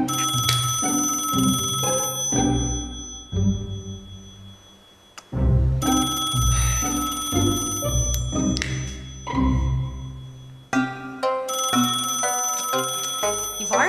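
A telephone bell rings in insistent bursts, loud and close, layered over a dense background score in a period drama scene.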